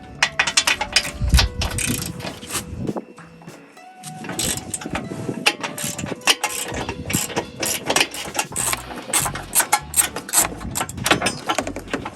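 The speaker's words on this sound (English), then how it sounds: "You'll need a deep socket, a pretty deep bolt sticking through there." A ratchet with a deep socket loosens 18 mm bumper bolts on a 2020 Jeep JL, rapid close clicking pawl bursts that pause briefly around the middle, loud and without talk.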